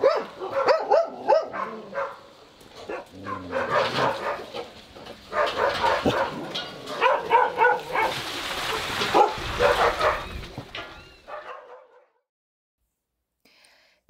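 Several puppies at a dog shelter yap and bark excitedly at feeding time, with overlapping high-pitched barks and whimpers close by. The barking comes in bursts and fades to near silence at the end.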